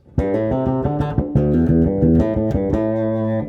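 A short melodic bass guitar riff, a variation on a bass line, with plucked notes in a steady groove, played alone without talk.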